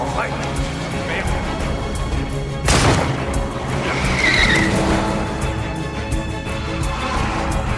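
A car speeds away with tires skidding and squealing, a loud burst of screeching rubber and engine roar rising mid-scene against ongoing background noise, with people talking around it.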